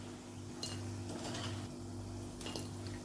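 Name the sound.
fried rice bhaji lifted onto a plate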